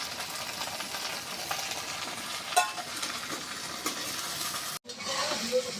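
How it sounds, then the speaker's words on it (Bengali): Bitter gourd and shrimp curry stir-fried in a pan, giving a steady close sizzle with faint scraping stirs, a brief clatter near the middle and a short break before the frying hiss resumes. "তরকারি আমি সুন্দর করে কষিয়ে নিচ্ছি"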